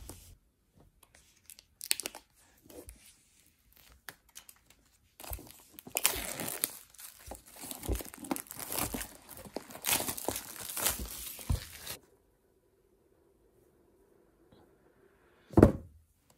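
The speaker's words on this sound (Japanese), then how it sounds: "では、これから開封します。" Plastic film and packaging crinkle and tear close by while a new Apple iPad mini 6th generation is unboxed, in a steady run of rustling that stops suddenly, followed by a near-silent pause and one sharp tap.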